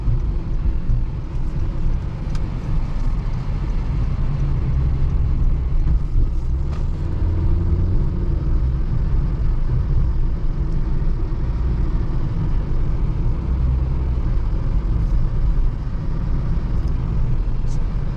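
Interior road noise inside a moving 2020 Honda Fit, a steady low rumble of tires and engine with faint rattles, continuous and close, no talking.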